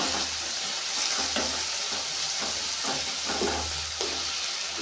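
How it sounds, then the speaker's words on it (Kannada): Tomatoes frying and being stirred in a pan for masala jowar kadubu, a steady loud sizzle with repeated scraping strokes of the stirring spoon, close and continuous with no talk. "ಚಂದಾಗ ಫ್ರೈ ಮಾಡ್ತೀವಿ ಇವಾಗ ಟೊಮೆಟೊ ಹಾಕ್ತೀನಿ"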